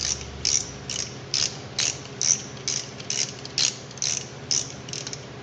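A hand ratchet clicks in a steady series of about a dozen short bursts while tightening front brake caliper bolts on a Ford F150, close and clear with no talking.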